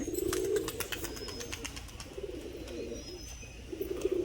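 Bazi pigeons, including a male and a female about to lay eggs, coo in repeated low throaty phrases with a few faint chirps and wing flutters. The sound is close and continuous, with no speech.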